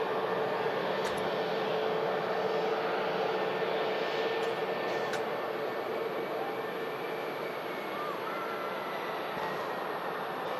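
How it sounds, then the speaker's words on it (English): A Singapore Airlines A350 arriving at Manchester Airport on final approach, a steady broad jet roar with whining engine tones holding at moderate distance, a few faint clicks over the top. "Singapore A350 arriving in from Houston"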